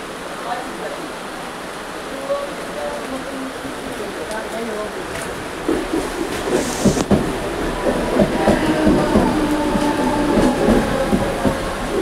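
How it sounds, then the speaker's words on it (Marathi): A train rumbles past close by, growing louder and heavier midway through, with faint talking under the steady roar. "आता बघा ट्रेन किती जवळून गेली आहे"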